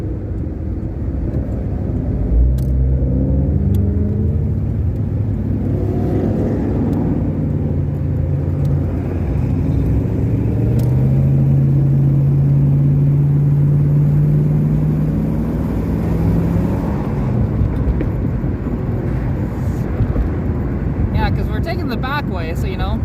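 A group of six Ford Mustangs cruising together along a back road, engines rumbling low and steady with a sustained drone, while someone talks over the noise throughout.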